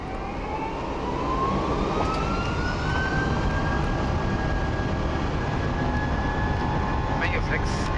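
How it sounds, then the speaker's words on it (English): Airbus A330 jet engines at takeoff power during a night takeoff roll from Frankfurt, heard from the cockpit as a steady, loud broadband roar with a rising whine that climbs through the roll. "Takeoff power set."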